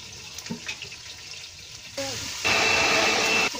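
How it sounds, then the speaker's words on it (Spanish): Water runs from a kitchen tap or is poured into a container while garlic, cumin and pepper are ground for a homemade salsa verde, a steady close rushing stream in the final seconds after brief clatter and quiet speech. "Vamos a poner una poquita de agua."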